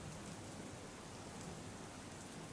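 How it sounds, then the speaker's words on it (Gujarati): Rain falling in Dwarka district, Gujarat, a steady, even hiss of rain on surfaces, faint and continuous throughout with no voices. "દ્વારકામાં મોડી રાતથી વરસાદી માહોલ જોવા મળી રહ્યો છે।"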